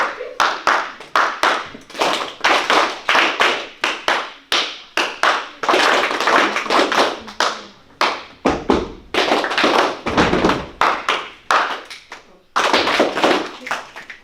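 Audience at a Christian school event claps hands together in a rhythmic pattern, sharp loud claps in repeated bursts with short pauses, with a voice speaking between the rounds.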